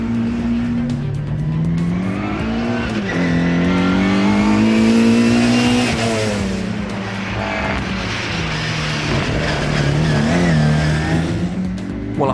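A Mini race car with a 145 bhp engine driven hard, its engine loud and close as it revs up and down through gear changes, rising and falling pitch sustained throughout with no talk.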